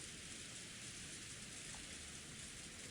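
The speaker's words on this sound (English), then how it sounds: "It's just us and the visual novel overlay of the rain effect against the world." Rain from the Umineko visual novel video game forms a steady, faint hiss of falling drops, even and unbroken with no other sound.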